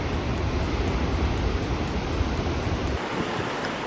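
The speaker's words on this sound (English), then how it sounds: "The waves out here are just insane." Ocean waves surge into Thor's Well on the Oregon coast at high tide, a loud, continuous roar of churning surf mixed with gusty wind buffeting the microphone.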